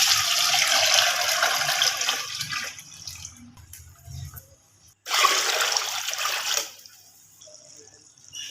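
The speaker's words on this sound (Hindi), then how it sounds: "अब डालते हैं ये मेज़ा दही और बेसन का" A yogurt and gram flour mixture pours into a kadhi pot with a loud, splashy rush of liquid, then stops and a second pour follows after a short pause. No talking.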